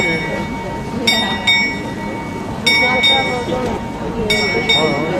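A bell rings in a few separate bright strikes, with clinking and a busy background of voices and movement.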